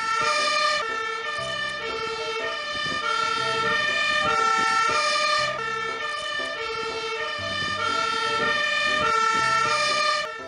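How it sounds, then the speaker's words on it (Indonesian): A fire truck siren wails steadily, loud and close, its rising and falling tone repeating in even cycles over a low vehicle rumble, with no voices. "di sini ada mobil pemadam kebakaran"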